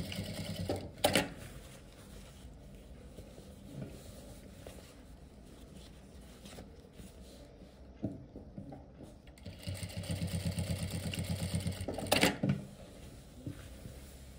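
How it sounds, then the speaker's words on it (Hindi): A sewing machine stitches belt loops onto formal pants, running in quiet bursts with a louder stretch of stitching near the end and a few sharp clicks, with no one speaking. "लुपियों को नीचे की साइड करेंगे और हाफ इंच के गैप पर सिलाई लगा देंगे"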